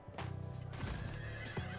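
A horse whinnies in Diablo 4 while hooves clip-clop steadily underneath, with low rhythmic pulses and electronic game sound effects, no talking.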